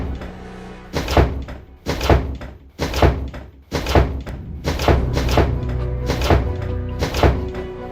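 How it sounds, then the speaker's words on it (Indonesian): A door being forced in the Sakura School Simulator video game: seven heavy, evenly spaced thuds land about once a second, each a loud close bang with a short boom, with no talk over them. "Biar gue dobrak pintu ya."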